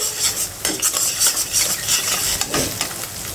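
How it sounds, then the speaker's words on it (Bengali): An egg scrambled and fried in a pan with browned onion, with spatula scrapes and clinks against the pan over a soft sizzle, close and steady. "এখন দিয়ে দেব একটা ডিম এটার ভিতরে ডিমটা ভেজে নেব ডিমটা কিন্তু একবারে আমি ঝুরঝুরা করে ভেজে নেব"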